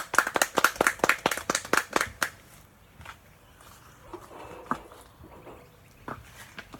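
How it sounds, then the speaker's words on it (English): Audience at a 50th wedding anniversary party clapping, a burst of fairly close claps that quickly dies down to a few scattered claps and faint room murmur. "So why don't we give Celeste a round of applause as she comes to sing for us."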